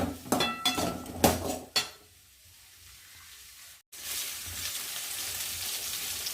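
Tomato and onion sautéing in a pan on a village stove: a run of metallic clinks and scrapes from stirring, a quiet pause, then a steady, even sizzle.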